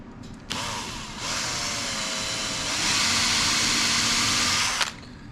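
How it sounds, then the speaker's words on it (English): A small power drill bores a little hole in wood for an ornament, whirring steadily at close range for about four seconds with a rise in pitch partway through, then cutting off. "I'll just drill a little hole in here"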